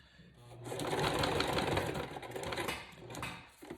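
A sewing machine stitches a zigzag around a fabric label, a steady rapid mechanical whirr that swells, runs for a few seconds and slows to a stop, close and fairly quiet with no talking.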